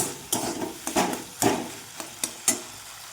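Potatoes and freshwater mussels fry in a pan for situi jhal under a soft sizzle, punctuated by about seven sharp, irregular knocks of a spatula stirring against the pan.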